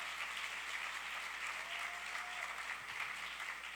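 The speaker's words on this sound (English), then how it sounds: "let's give her a round of applause for a second" At an awards ceremony, an audience gives a sustained round of applause for actress Sheryl Lee Ralph, a continuous even wash of clapping heard somewhat distant and muffled.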